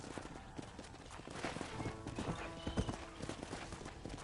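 Horse hooves clip-clop steadily in Red Dead Redemption, a dense rhythmic gallop under game music and ambient noise, with brief talk.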